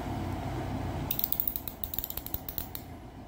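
Crescent pass-through ratchet being worked by hand, a steady run of rapid clicking pawl ticks after a brief pause, close and clear over a faint background hum.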